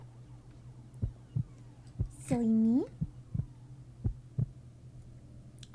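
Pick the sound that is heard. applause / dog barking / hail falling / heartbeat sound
heartbeat sound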